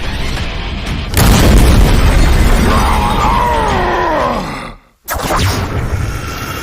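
Anime sound effect of a cannon blast fired from Guts' false hand in a Berserk battle against Grunbeld, a loud booming roar with rumbling tail, cut off by a sudden silence before another heavy boom.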